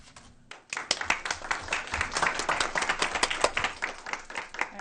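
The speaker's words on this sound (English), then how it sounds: "I just have to ask if we can give them one more round of applause" A school board meeting audience bursts into dense, rapid hand clapping that starts abruptly and stays steady and fairly close, a warm round of applause filling the room.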